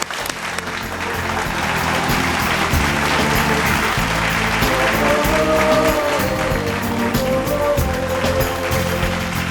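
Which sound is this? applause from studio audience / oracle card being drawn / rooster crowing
applause from studio audience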